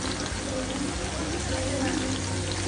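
Onion and chilli fry in a pan with a steady, dense sizzle that stays fairly loud and even throughout, with faint stirring beneath.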